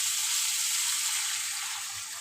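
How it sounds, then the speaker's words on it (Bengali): Water poured into a hot pan of frying vegetables makes a bright, hissing sizzle that holds steady and close for a couple of seconds, then eases off slightly, with no talk. "চলো এবার আমি জল দিয়ে দেবো।"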